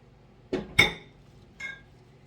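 Apples dumped into a pan for apple cobbler, three close knocking clatters: two quick bumps, then a lighter one a moment later, in an otherwise quiet kitchen.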